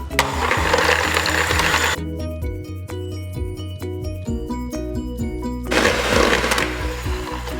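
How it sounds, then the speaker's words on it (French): A stand mixer whips egg whites for tiramisu with a loud, steady motor whir and rhythmic clatter of the whisk in the bowl, briefly easing off before surging again. "on va commencer à monter les blancs en neige. Donc moi je le fais au robot."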